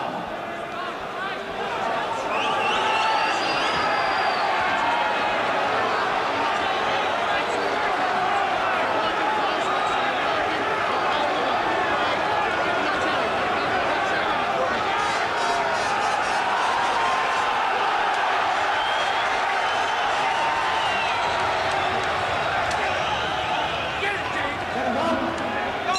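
A boxing crowd cheers for Frank Bruno at his fight against James Tillis, a dense, sustained roar of voices filling the arena, with a commentator talking over it throughout.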